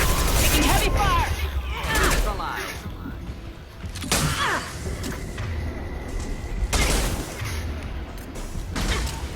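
Heavy gunfire and booming impacts erupt in Mass Effect 2, several loud bursts recurring every couple of seconds with voices talking through the combat.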